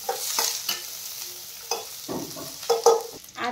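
Thinly sliced onion frying in a pan for dosa accompaniments, a soft sizzle under repeated scrapes and stirs of a spatula, with a few louder clinks toward the end.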